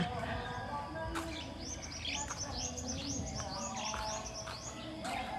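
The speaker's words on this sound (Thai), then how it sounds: "ออกไปยืนฟังเสียงนกเสียงกาเสียงไก่ขันยามเช้าด้วยกัน" Birds chirp in the morning in a quick repeating series of bright tweets over a steady low outdoor rumble, with a few other calls in the background.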